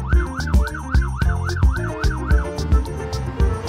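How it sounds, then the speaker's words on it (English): A fire truck siren cycles through a quick, repeating whoop-whoop yelp, loud and close, over a thumping musical beat that carries on after it stops. "Fire truck."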